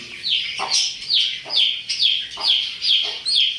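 Chicks and hens cluck and cheep inside a cage, a close, loud series of repeated short chirping calls in a quick, regular rhythm.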